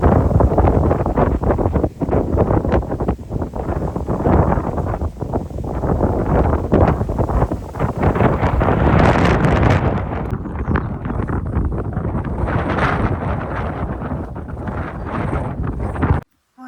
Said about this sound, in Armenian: այստեղ արդեն քամի կա, դե լավ, ձայնս չի լսվի։